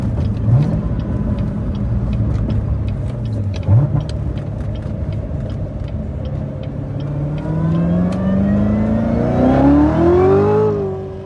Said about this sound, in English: take this car for a test drive and see how I like it